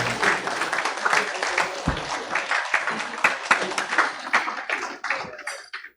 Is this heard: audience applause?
yes